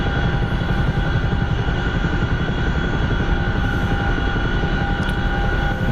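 A Chinook helicopter drones loudly and continuously, a dense low rotor and engine roar with a steady whine on top, holding constant throughout with no voices.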